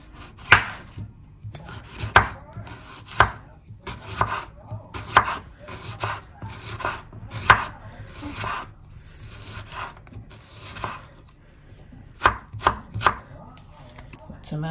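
Cucumber chopped on a board with a knife, a close, irregular series of crisp thuds and taps, some in quick bursts, over a light background with faint indistinct talk.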